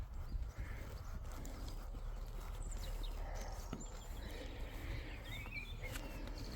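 Horse moving during a riding lesson, its hooves clip-clopping softly and rhythmically over steady outdoor background noise, with occasional faint bird sounds.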